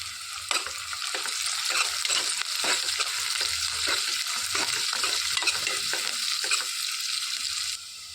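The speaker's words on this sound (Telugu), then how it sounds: "ఇందులోనికి పచ్చిమిర్చి కూడా వేసుకొని వేయించుకోవాలి." Onions and green chillies fry in a pan, giving a steady hiss while a utensil stirs and scrapes against the metal in repeated rhythmic strokes, close and prominent until the sizzle drops near the end.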